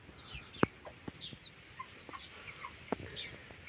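Hens with chicks cluck softly in a farmyard, a few sharp nearby clucks and scattered quieter calls over low background noise, with no one talking.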